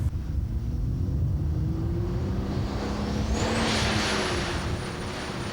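A pulling tractor engine at a 1994 Euro Series tractor pulling event climbs to full power, a loud steady roar with a rising whine over a deep rumble.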